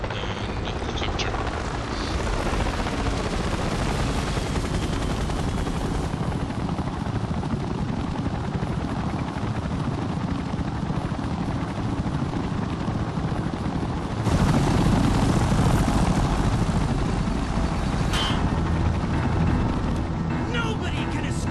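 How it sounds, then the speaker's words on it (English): Helicopter in the game Secret Files 2: a loud, steady rotor drone with heavy low rumble fills the whole stretch, swelling briefly near the end, with no talk over it. "And the helicopter."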